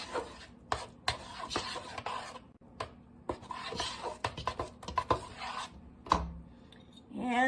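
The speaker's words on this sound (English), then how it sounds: "Let's give this a stir." A wooden spoon scrapes and knocks around a pot of potato leek soup, giving irregular close scraping strokes and a few sharper clacks against the pot, with no talking.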